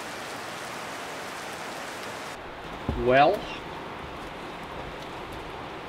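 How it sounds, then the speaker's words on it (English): Steady rain falls outdoors at a bouldering crag, a soft continuous wash of drops heard close around, with a brief spoken word breaking through it partway. "Still raining, huh?"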